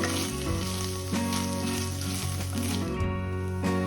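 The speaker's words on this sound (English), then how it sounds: "I'm going to fry this well until the raw smell of the ginger garlic paste goes away" Ginger garlic paste fries in a pan for a spicy pepper chicken gravy, giving a loud, continuous close-up sizzle with steady tonal sound underneath.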